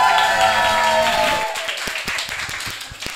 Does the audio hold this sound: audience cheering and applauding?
yes